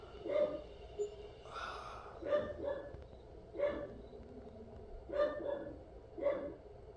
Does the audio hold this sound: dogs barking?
yes